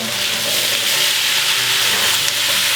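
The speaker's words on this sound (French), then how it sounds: "Et on fait revenir avec une légère coloration." Steady, loud sizzling of onion, garlic, carrots, turnips and kohlrabi sautéing in a saucepan, a continuous crackling hiss with faint stirring noises.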